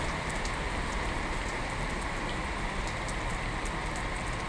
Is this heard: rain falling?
yes